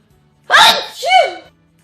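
A single sharp sneeze bursts out close and loud, trailing into a brief voiced tail before quiet returns.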